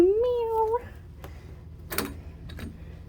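A pet cat gives a single rising, drawn-out meow up close indoors, followed by faint clicks and small thumps in a quiet room.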